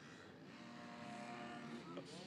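Motocross motorcycles revving at a race meeting in Horsham, Victoria, a steady droning engine whine with shifting pitch heard from a distance under an announcer's voice.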